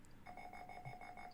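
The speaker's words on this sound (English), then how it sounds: "This is the only one I've ever heard with a super annoying beep." A Space Invader tic-tac-toe game on a CoCo computer sounds a shrill electronic beep, pulsing in a rapid, regular stutter of short tones, thin and fairly quiet.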